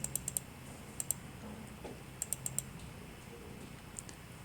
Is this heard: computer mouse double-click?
yes